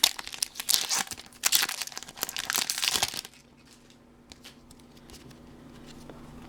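A Pokémon Plasma Blast booster pack torn open, loud close crinkling and ripping foil for about three seconds, then faint rustling of cards being handled.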